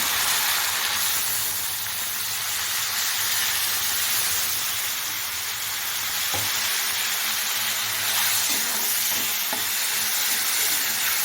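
Spices fry in a pan for a village-style Bengali fish curry with mustard paste, making a steady close hiss and sizzle throughout, with a few faint scrapes of stirring near the end.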